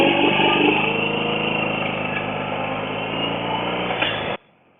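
A BMW R 18 motorcycle engine runs steadily on a demo ride, a loud, close, continuous drone with a slight rise near the end before it cuts off abruptly, leaving quiet.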